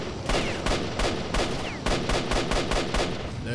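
Gunfire in the video game STALKER Shadow of Chernobyl: a string of sharp, loud single shots at uneven intervals, some in quick pairs, with a brief gap midway and no talking.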